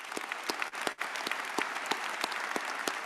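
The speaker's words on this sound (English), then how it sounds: "If you wouldn't mind standing one more time for a round of applause." A convocation audience at a medical college ceremony claps in a moderately quiet, scattered round, with distinct individual hand claps standing out from a soft continuous patter.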